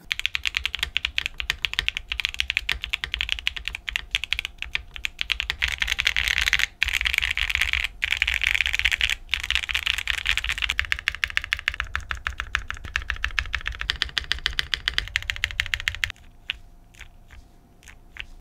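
Rapid, continuous clacking of a Sunset80 mechanical keyboard with a bottom case poron sheet, typed on up close, with a brief slower stretch of scattered keystrokes near the end.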